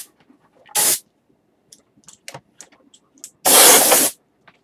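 Two loud, sharp hissing blasts of air from a spray duster, each under a second, separated by quiet rustling and small clicks.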